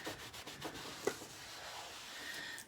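Wax being rubbed by hand onto the edges of chalk-painted wood gives a soft, steady scuffing and rubbing, faint and close, with one small knock partway through and no talking.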